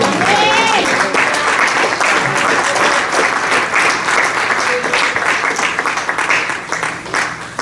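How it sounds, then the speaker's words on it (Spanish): A church congregation breaks into loud, sustained applause, dense clapping filling the room, with voices and a sung or shouted tone rising through the crowd noise. "Podemos darle una alabanza de aplausos al Señor."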